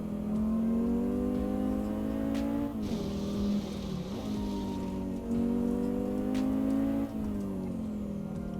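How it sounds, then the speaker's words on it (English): Race car engine in Assetto Corsa revving hard and bouncing off the rev limiter, a loud, steady high-pitched drone with harmonics that sag and climb again through a few short stutters, with no talk over it. "Hitting the rev limiter then."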